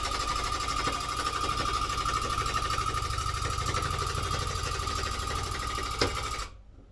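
A rug tufting gun runs nonstop, shooting yarn along the outline of a Wolverhampton Wanderers badge rug with a loud, steady mechanical buzz that cuts off abruptly near the end.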